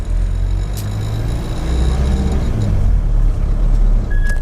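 A Mitsubishi L200 pickup truck with a rebuilt turbo pulls away in first gear, its engine giving a loud, steady low rumble from inside the cab, with a faint whistle and light rattles and no voices.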